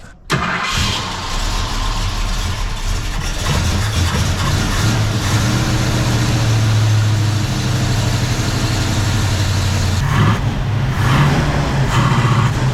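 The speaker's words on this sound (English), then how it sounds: "It's still, you know, full throttle, it just bogs." A 1971 Ford Mustang engine with its original Holley carburetor runs close by and loud, held at full throttle but bogging with a steady low drone that sags and surges rather than revving cleanly, continuous to the end.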